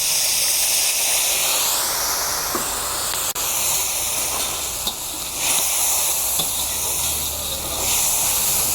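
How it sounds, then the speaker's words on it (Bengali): Water splashed into hot oil with white cumin seeds sends up a loud, sustained hiss and steamy sizzle that fills the whole stretch, with a sharp crackle partway through. "এবার এর মধ্যে দিয়ে দেবো সামান্য পরিমাণে জল।"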